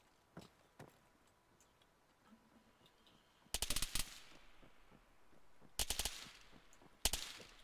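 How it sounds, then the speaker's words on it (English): Bursts of rifle gunfire in a military simulation game, several rapid volleys of shots at moderate distance with scattered single cracks between, no talking. "We're getting shot at."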